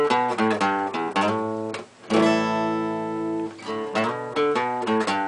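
Acoustic guitar plays a song intro, bright strummed chords mixed with quick melodic runs, close and clear with a brief gap before a sustained ringing chord and more runs.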